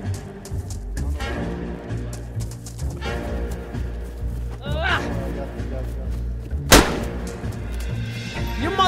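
Gunfire in the video game DayZ, several sharp shots scattered among loud overlapping voices, with one especially loud crack near the end.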